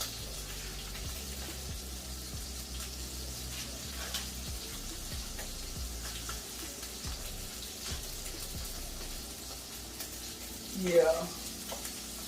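Shrimp sizzles and crackles steadily in a hot pan on high heat, with occasional stirring clatter and a brief spoken word near the end.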